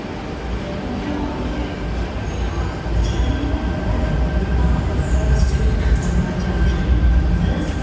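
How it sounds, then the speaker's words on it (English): Steady low rumble of a double-decker train idling or moving at a Sydney station, growing slightly louder midway, with no talking. "Look at the size of that double-decker train there."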